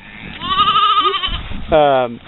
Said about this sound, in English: These 20 sheep have been in here for over a year.